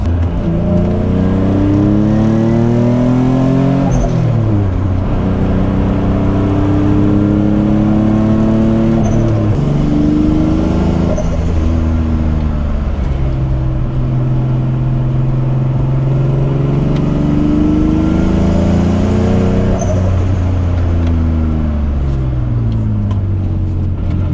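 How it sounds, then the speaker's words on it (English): A Nissan 350Z engine revs up repeatedly under full acceleration, pitch climbing then dropping between gears, with a faint odd whine riding over the steady roar, a fault that sends it into limp mode. "there's a weird noise right now, so it's only when I fully accelerate"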